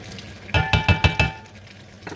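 A spoon scrapes and knocks against a pot of stew in five quick, evenly spaced strokes, fairly close, with a faint background hum and no talking.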